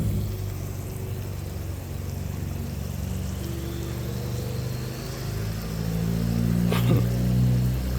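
A car with a loud engine passes outdoors near a barbecue cook, a low droning rumble that swells toward the end, fairly distant and steady with no talking.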